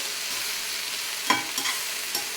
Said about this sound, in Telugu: దీన్ని మంచిగా వేయించుకుందాము ఆయిల్లో